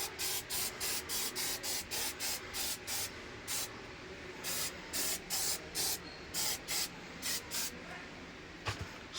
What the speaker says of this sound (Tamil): ஸ்ப்ரே லைட்டாக அடிச்சுட்டுருவோம்.